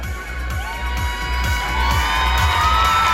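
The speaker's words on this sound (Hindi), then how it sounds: "दोनों टीम्स के लिए जोरदार तालियां" Crowd cheering and whooping at the final of an All India tennis ball cricket championship, a steady outdoor roar of many voices with children's shouts, rising slightly toward the end, with no applause distinct.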